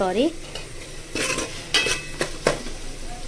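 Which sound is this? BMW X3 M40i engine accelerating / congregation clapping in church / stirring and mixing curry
stirring and mixing curry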